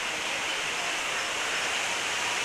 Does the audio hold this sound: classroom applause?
no